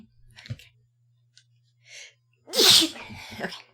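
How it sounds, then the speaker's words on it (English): A few faint breaths and small sounds build up to one loud, close sneeze, followed by a brief trailing exhale. "I'm going to sneeze."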